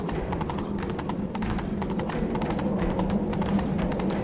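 Roach the horse galloping in The Witcher 3, a steady rapid clip-clop of hooves running continuously and close throughout, with little else over it.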